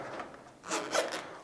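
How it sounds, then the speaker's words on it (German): A zipper on a Retyre bicycle tire pulled closed in a couple of short, soft rasping strokes, close and quiet. "unseren Reißverschluss zu, wie bei einer Jacke."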